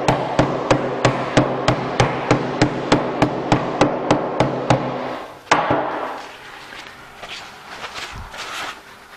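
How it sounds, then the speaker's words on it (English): A hammer raps a lid down onto a paint can over a covering in about eighteen quick, evenly spaced, sharp taps, followed by one heavier knock and a few softer scattered clunks. "I'm going to put a covering over top of it before I hammer it down"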